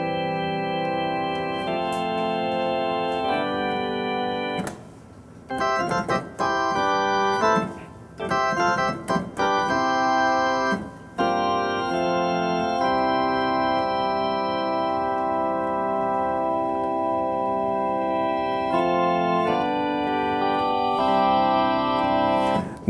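A Ketron Audya keyboard plays a drawbar organ sound, sustained chords of rich harmonic tones with quick rhythmic runs in the middle, loud and close with no talking.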